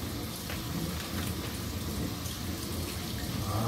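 Water runs steadily from a tap while a duck breast is rinsed, a close, dense hiss and splatter that holds constant and swells slightly at the end, with no talk.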